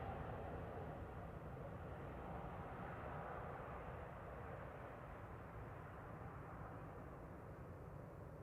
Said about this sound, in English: Goes the white plane into the white sky.